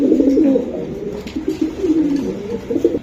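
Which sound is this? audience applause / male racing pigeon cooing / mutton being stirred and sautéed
male racing pigeon cooing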